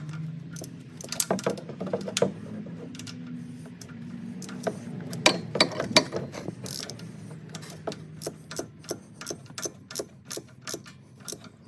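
A ratchet wrench tightening the oil drain bolt on a Honda Pioneer 700, close clicking in bursts, then a steady run of sharp, evenly spaced ratchet clicks toward the end, with no talk.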